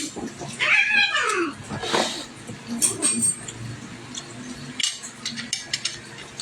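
A cat meowing loudly close by, with a long drawn-out caterwaul near the start followed by shorter cries, mixed with faint clinks and a voice in the background.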